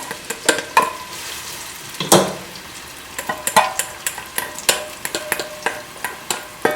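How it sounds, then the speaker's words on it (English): Onion frying in about half a cup of oil in a pot for butter chicken, a constant sizzle broken by repeated sharp scrapes and clinks of a utensil stirring against the pot, close and clear with no voices. "about half a cup of oil in the pot, and we're going to fry the onion"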